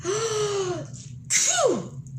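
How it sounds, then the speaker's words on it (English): A person gives a staged, exaggerated sneeze: a drawn-out vocal wind-up, a short pause, then a sharp, loud burst, close and alone. "Here's my sneeze."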